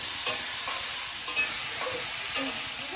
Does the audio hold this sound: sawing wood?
no